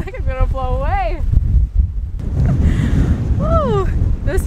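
Strong, chilly wind at Keys View overlook in Joshua Tree National Park buffets the microphone in a loud, continuous low rumble, while voices exclaim and whoop over it.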